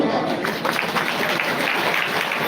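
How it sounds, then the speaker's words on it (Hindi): An audience at a satsang claps for the satguru, a continuous patter of many hands at a moderate level, with some voices blending in. "इसलिए सतगुरु के तालियां बजाओ,"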